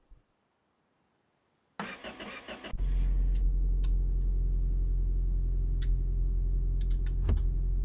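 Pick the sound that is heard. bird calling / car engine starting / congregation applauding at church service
car engine starting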